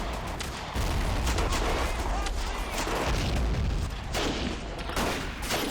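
Dense, continuous battlefield gunfire from Battle of Empires 1914-1918, a World War I game: rapid machine gun bursts mixed with rifle shots and distant artillery booms, loud and sustained, with heavy low rumble throughout.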